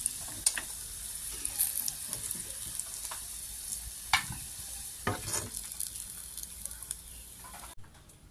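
Potatoes frying in oil, giving a soft continuous sizzle with scattered crackles and a few sharper stirring clicks, fairly quiet, cutting off abruptly near the end.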